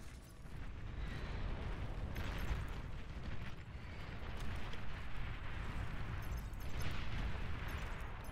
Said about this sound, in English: Torpedo launcher.